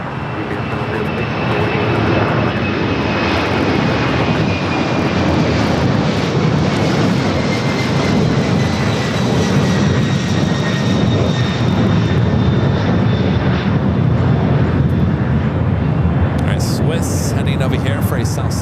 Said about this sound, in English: Are we doing that UPS 767 rolling it down at 25 left, flight heading to Louisville.